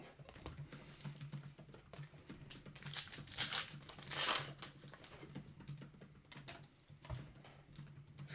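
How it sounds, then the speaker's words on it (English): Frantic typing on a computer keyboard, a dense stream of close, rapid key clatter that swells and eases over several seconds, with no speech. "Furiously typing."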